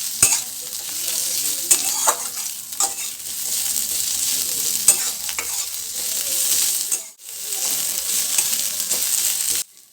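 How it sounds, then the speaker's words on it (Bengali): Onions sizzle and crackle in hot mustard oil in a wok, with repeated scraping and clinking of a spatula as they are stirred, close and continuous with no voices. "পেঁয়াজটা উল্টে পাল্টে একটু ভালো করে ভেজে নিতে হবে।"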